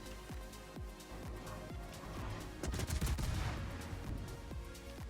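Repeated naval gun salvos from warships in World of Warships, a run of sharp booming shots at a steady rhythm that swells into a denser, louder barrage midway, with no talk.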